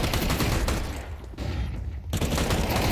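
Rapid Tec-9 pistol fire crackles through a Counter-Strike esports match in dense, loud bursts with a brief lull, then the volley resumes, and a caster's voice is faintly mixed in.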